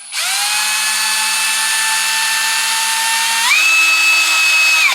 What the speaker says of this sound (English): That is an annoying drill sound,